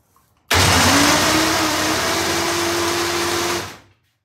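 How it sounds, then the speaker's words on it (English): A vintage British motorcycle engine turned over in gear with the spark plug removed and no ignition: a sudden, loud, steady whirring spin lasting about three seconds, then winding down and stopping. "here goes with a spin test, spark plug out"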